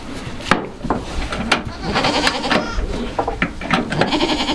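Young goat kids bleat repeatedly and loudly at close range, several overlapping cries in quick succession during a disbudding session on a farm.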